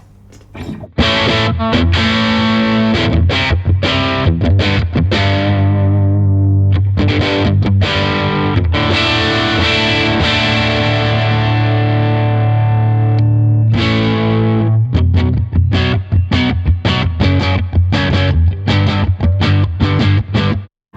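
A distorted electric guitar through a Blackstar TV10 B small amp plays sustained chords and riffs, loud and continuous with a thick, saturated tone.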